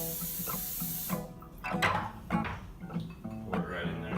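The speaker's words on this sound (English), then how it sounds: "Just gonna put a little non-stick spray." A steady hiss of non-stick cooking spray onto a metal baking sheet opens the clip, followed by clattering and scraping of the pan, with voices and background noise throughout.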